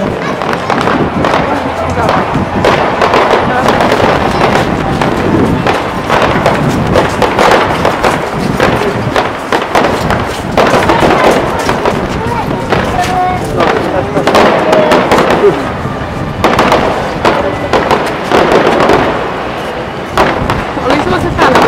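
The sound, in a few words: fireworks display in Kuopio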